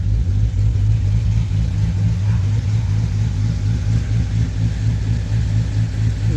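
A Jeep SRT engine, freshly repaired after lifter failure and fitted with an underdriven balancer pulley, runs with a loud, steady droning hum and slight revving swells, heard close and alone.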